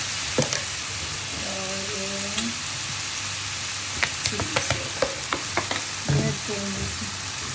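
Soy sauce goes into a hot sizzling pan, bringing a steady frying hiss with scattered sharp crackles and scraping stirs; a few short tonal squeaks sound along the way.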